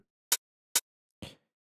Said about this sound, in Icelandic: Og svo þurfum við að hafa opin hi-hat og hann hljómar svona.